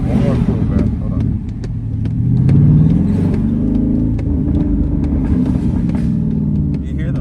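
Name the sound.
Jeep Trackhawk engine revving with exhaust pops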